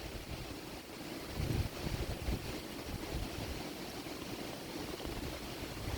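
Strong wind blowing outdoors on a walk into a forest, a steady broadband roar and microphone buffeting that swells around the second mark and continues without pause; no voices.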